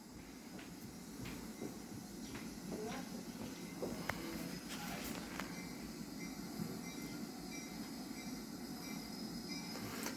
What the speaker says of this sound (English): And here comes the street running train.